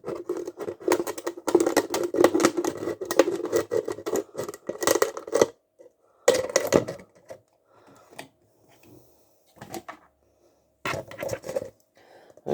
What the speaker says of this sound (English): you can then get a scissors and just go around